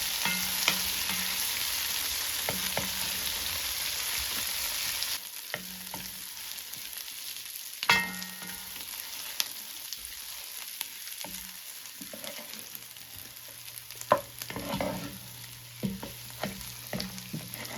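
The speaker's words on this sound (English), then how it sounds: "Comment below how many times you think I stirred this cast iron Dutch oven." Onions frying over medium heat in a cast iron Dutch oven, a continuous sizzle broken by repeated scraping and clanking of a utensil stirring them, close and fairly loud.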